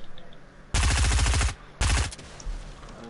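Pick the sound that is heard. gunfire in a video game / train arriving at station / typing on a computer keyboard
gunfire in a video game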